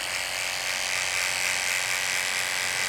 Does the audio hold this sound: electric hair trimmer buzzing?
yes